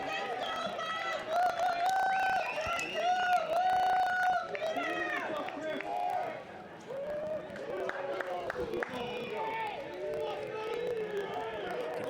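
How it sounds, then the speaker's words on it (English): Baseball crowd at a Portland versus Saint Mary's college game, fans cheering on the pitcher on the mound in the late innings; a steady, fairly loud wash of crowd noise and chatter with swelling shouts throughout. "You can hear the fans cheering on Allegro on the mound"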